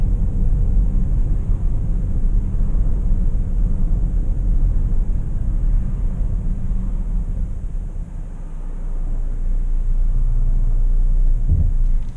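Engine of a 2017 Volvo V90 Cross Country restarting after an auto stop, heard from inside the cabin as a steady, loud low rumble that dips briefly and then swells back, with a short knock near the end.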